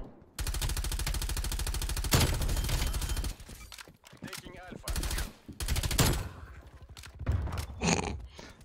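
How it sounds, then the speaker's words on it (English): Rapid automatic gunfire in Call of Duty Black Ops Cold War, long loud sustained bursts broken by brief pauses, with chattering bursts returning near the end. "They're shooting at me now."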